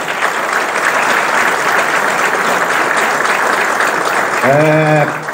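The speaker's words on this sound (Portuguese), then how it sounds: "vamos dar um aplauso aí com força" Loud, sustained applause from a large audience at an evangelical gathering with the Brazilian president, dense clapping filling the space throughout, with a voice briefly sounding over it near the end.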